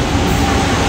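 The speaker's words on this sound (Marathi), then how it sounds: "हो, मडगाव एक्सप्रेस आलेले आहे." Madgaon Express at Kankavli railway station, a loud, dense rumbling roar of the train moving close by, continuous and unbroken for the brief moment, with no voices.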